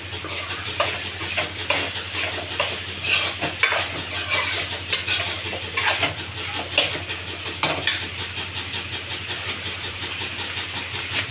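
Food frying in oil in a pan is stirred repeatedly, with a steady sizzle broken by frequent scraping strokes close up. No one speaks.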